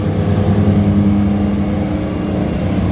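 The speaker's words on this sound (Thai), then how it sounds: "ในเสียงของเครื่องยนต์มาแล้วนะครับ" A tugboat engine makes a loud, constant low drone with a steady hum, close by and unbroken throughout, while towing a barge upstream on the Chao Phraya River in the evening.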